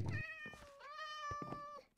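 Cats meowing in the Minecraft game: a drawn-out, tonal mewing call lasting nearly two seconds, clear and close, with no talking over it.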